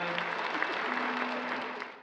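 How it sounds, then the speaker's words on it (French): Audience applause at a public gathering about rebuilding a town in Fukushima, a dense, steady wash of clapping through the whole moment with a faint tonal hum underneath, easing off slightly at the end. "Applaudissez, merci beaucoup."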